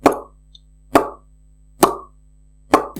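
A beatbox lip pop for the Phe snare, made by a voice imitating a snare: four crisp, close plosive pops spaced evenly about a second apart, each standing alone against silence.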